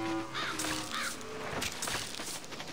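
Crow cawing in the Nintendo 3DS game Luigi's Mansion Dark Moon, Gloomy Manor level: several harsh caws repeat over quiet background game ambience, moderately loud and with no talk.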